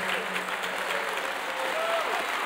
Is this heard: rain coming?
no